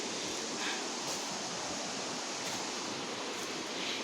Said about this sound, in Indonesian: Yang bunyinya itu bunyi aliran sungai guys.